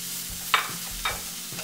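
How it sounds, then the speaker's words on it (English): A spatula scrapes and stirs through a pan while ingredients for dal palak sauté, heard as three or four distinct close scraping strokes over a soft low sizzle, with no voices. "And saute just for a few seconds."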